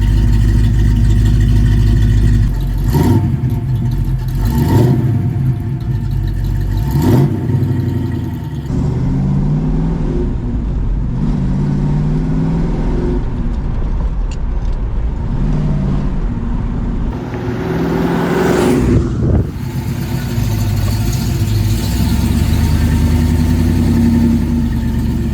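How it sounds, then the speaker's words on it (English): A 1974 Chevrolet Camaro Z28 engine revving repeatedly, then pulling hard through rising gears, loud and close with a deep steady rumble. "the 1974 Camaro Z28 doing the 0 to 60 run in 8"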